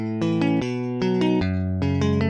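An electric guitar plays a song's chord progression as ordinary triads, with clean picked arpeggiated notes in a steady repeating pattern, close and clear, and no talking over it.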